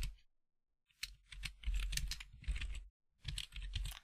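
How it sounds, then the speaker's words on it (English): Close bursts of typing on a computer keyboard, with quick clustered keystrokes separated by short pauses and no talking. "I'm just going to type in recent posts."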